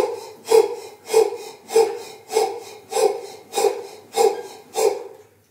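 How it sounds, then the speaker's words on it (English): Heavy rhythmic mouth breathing during a rebounder bouncing exercise, eight strong breaths in a steady cycle of roughly one every 0.6 seconds, close and loud with no talking. "You bend at the knee, stand up, breathe in, come down, breathe out."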